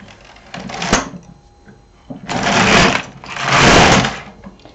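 An LK 150 knitting machine works rows of light-colored yarn with loud, close carriage sweeps, a short scraping pass followed by two long rushing runs that rise and fall, with quieter clatter between them.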